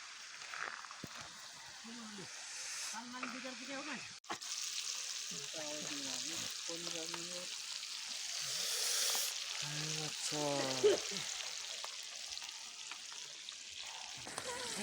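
Fish sizzles and crackles steadily in a hot pan of oil, a continuous close frying hiss, while people talk intermittently over it.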